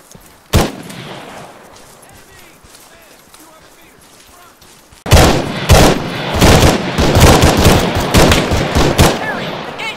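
Machine-gun fire in Arma 3: a single loud shot, then sustained rapid bursts of gunfire close by, dense and ragged over background noise.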